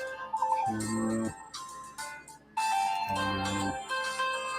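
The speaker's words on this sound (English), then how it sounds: "seems a phone call did come through" Phone ringtone of an incoming call plays in short repeating melodic bursts with gaps between, moderately loud during an online group call.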